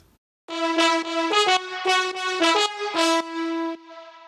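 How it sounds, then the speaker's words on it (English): A VSL Brass trombone ensemble sample plays a short, bold brassy phrase of accented notes and a sustained tone, loud and alone. "VSL Brass, and then it's the Trombone Ensemble preset."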